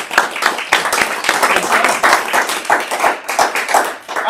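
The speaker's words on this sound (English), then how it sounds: "let's give Tracy a round of applause" Audience applause for a presenter named Tracy at a community gathering: dense, steady clapping from many hands, close and loud for about four seconds, tapering slightly at the end.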